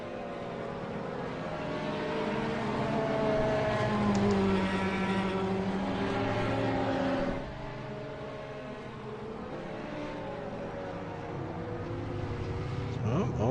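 Race cars at Silverstone on the Hangar Straight, with engines droning at rising and falling pitch as they accelerate, a loud sustained in-car engine tone that drops in level partway through.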